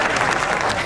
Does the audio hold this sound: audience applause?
yes